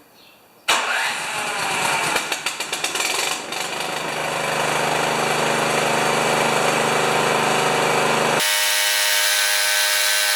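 A YardWorks 30-inch snowblower engine with a hand-pump primer starts with a sharp catch and sputter, then settles into a loud, steady, close running drone that cuts abruptly near the end.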